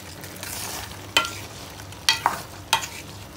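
Food fries quietly in a pan while a utensil stirs it, giving three or four sharp scraping clatters over a soft continuous sizzle, close by and without talk.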